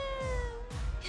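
A cat gives a short drawn-out meow, close and clear, over a low background hum.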